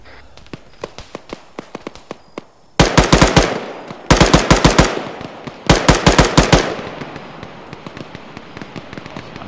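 Suppressing machine gun fire in a combat exchange: several loud, close bursts of rapid shots, with lighter spaced single shots between them, and no talk.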